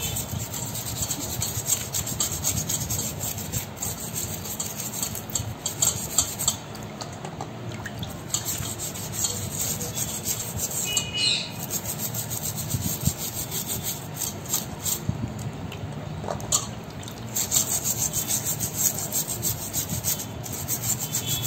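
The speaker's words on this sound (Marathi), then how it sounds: "हे असे पाठीमागून पण आपण असा ब्रश फिरवून स्वच्छ करून घ्यायचे आहे" A brush scrubs raw crabs clean for a Malvani crab curry, producing a continuous close rasping, rubbing sound with steady strokes and faint watery drips.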